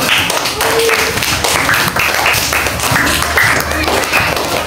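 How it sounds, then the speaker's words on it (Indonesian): A classroom of students claps hands together during a school lesson, loud and close, a busy run of claps with voices and chatter mixed in. "kita beri tepuk tangan"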